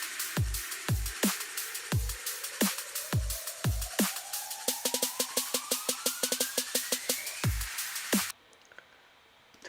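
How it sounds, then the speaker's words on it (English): Sharp trap snare hits with deep booming kicks speed up into a rapid roll in a drum and bass track, a rising synth tone beneath, then cut off abruptly into near silence. "basic trap snare, and I made a roll in a piano roll out of it"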